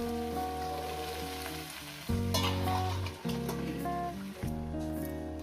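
A simmering Bengali khesari greens chorchori with potato, brinjal and bori gets stirred in its pan after the lid comes off, frying and scraping sounds rising in short bursts over continuous background music.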